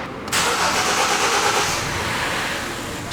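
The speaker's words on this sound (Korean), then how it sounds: "방금처럼 딜레이가 있는 상태에서 시동이 좀 늦게 걸리는 경향도 있다고 말씀도 하셨거든요" A Kia K5 gasoline car engine cranks briefly and catches after a short delay, then settles into a steady, moderately loud idle close by, with no talk.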